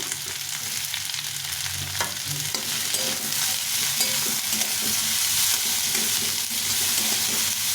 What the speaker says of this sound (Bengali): ঠোঁটটা দিয়ে ভালো করে ভেজে নেব